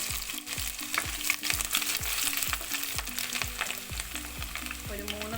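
Garlic sizzles in hot coconut oil, a steady close frying hiss broken by repeated stirring knocks of a spoon against the pan, while mustard seeds and ginger cook for a Kerala-style sardine curry.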